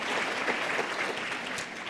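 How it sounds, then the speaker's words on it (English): A conference audience gives a short, steady burst of applause for a speaker named Carly, with dense clapping throughout and no talk. "Carly, yes, she deserves a round of applause."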